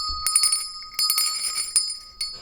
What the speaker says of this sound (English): Here is me ringing the bell. It's a physical bell